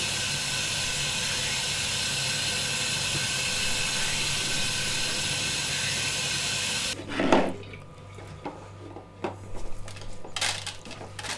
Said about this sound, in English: Just give it a good old rinse under the tap with your fingers.